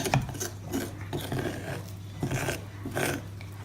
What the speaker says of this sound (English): I'm just going to stir all that in